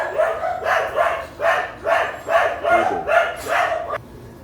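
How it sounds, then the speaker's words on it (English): Neighbouring dogs bark in a steady run of about seven loud, evenly spaced barks in a backyard setting, then stop abruptly. "Sorry about the noise with the neighbor's dogs."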